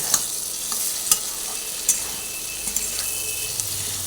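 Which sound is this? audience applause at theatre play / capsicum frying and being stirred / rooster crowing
capsicum frying and being stirred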